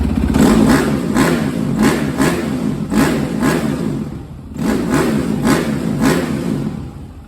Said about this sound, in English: Got a nice idle now. Rmz250.